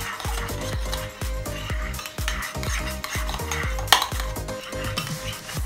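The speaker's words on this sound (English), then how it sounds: "we will give it a nice little stir. Make sure that all of the bobas get that goodness" Cooked mini tapioca pearls stirred in brown sugar syrup, a spoon knocking and scraping a pot in a quick regular rhythm, wet sticky clicks close up with no talk.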